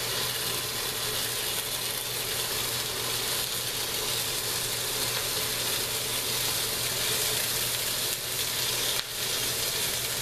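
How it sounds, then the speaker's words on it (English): Pork belly slices sear in a very hot frying pan, giving a steady, loud, close sizzle of spitting fat with faint scraping ticks, and no voices throughout. "So now we're going to sear each side of the pork belly slices for about 20 seconds."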